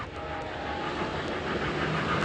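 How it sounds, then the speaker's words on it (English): Model trains in a home train collection run with a continuous, steady rumble and faint clattering, filling the room evenly with no voices. "hear some trains. I hear trains."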